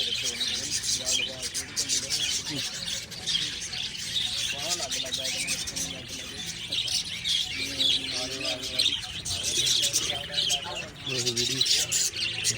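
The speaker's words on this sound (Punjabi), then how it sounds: "ਪੰਛੀ ਆ ਤੁਸੀਂ ਪੰਛੀ ਦੇਖ ਸਕਦੇ ਹੋ" Birds chirp and tweet steadily in the background, several calls overlapping, while people talk nearby.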